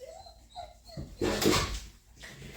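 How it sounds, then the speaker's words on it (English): A dog outside a puppy training room gives a few short whines and yelps, muffled and at middle distance, followed by a louder rustling burst. "don't mind the noise outside, there's a dog checking out what we're doing in the training room"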